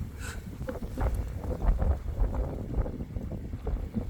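Strong wind gusts outdoors while panning for fine flour gold, a rumbling, buffeting low roar across the microphone that swells and dips throughout, with no talking.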